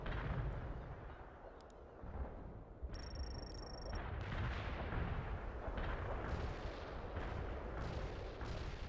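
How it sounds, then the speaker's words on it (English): Heavy artillery barrage in the World in Conflict video game, a dense continuous rumble of overlapping blasts and booms that stays loud and steady throughout, with brief high tonal game beeps partway through. "Heavy artillery barrage inbound."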